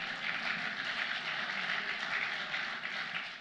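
Steady, dense audience applause fills a political party spring conference hall, a continuous wash of many hands clapping at even loudness throughout, with no voices rising above it.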